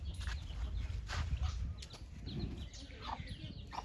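Clucking from a desi hen and her newly hatched chicks comes in scattered short calls and chirps at close range over steady low farmyard noise, with some rustling.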